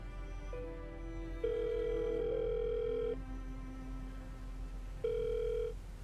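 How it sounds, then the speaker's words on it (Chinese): A telephone call goes through, with electronic tones stepping in pitch followed by a long ringback tone, a pause, then a shorter repeat, heard quietly and alone. "打电话给耗子。"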